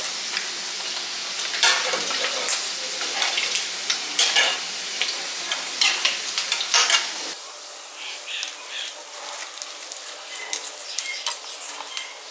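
Chicken coated in cornflour and maida deep-fries in hot oil with a loud, steady sizzle, punctuated by close scraping and clinks of a utensil against the pan.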